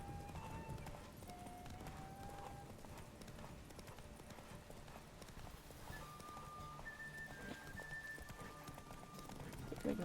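A horse gallops in a video game, its quick, rhythmic clip-clop hoofbeats steady and faint beneath soft game tones, with occasional quiet talk.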